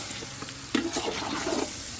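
A spoon stirs chicken biryani ingredients in a cooking pot, giving a soft wet scraping and churning that swells midway, with no talk over it.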